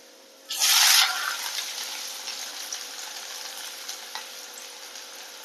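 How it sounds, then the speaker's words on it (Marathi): Onions tipped into hot oil with garlic burst into a loud hiss, then settle into a steady sizzle with occasional stirring scrapes, close up and without voices. "कांदा चांगला लालसर होईपर्यंत भाजून घेऊया, मी ढवळून घेते"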